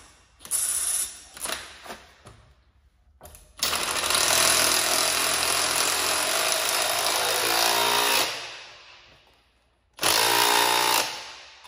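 An impact wrench loosening a strut on a 2011 Ford Shelby GT500 during a spring swap, with a few short hammering bursts followed by a long loud continuous rattling run, then another burst, heard up close.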